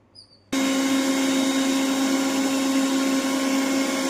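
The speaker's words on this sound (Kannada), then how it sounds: "ಈಗ ಇದನ್ನು ನೈಸಾಗಿ ರುಬ್ಕೊಂಬರ್ತೀನಿ." A mixer grinder whirs steadily as it grinds soaked sprouted grains, starting abruptly after a brief quiet moment and running loud and constant up close.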